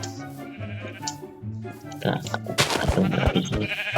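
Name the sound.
sheep bleating in the video game Minecraft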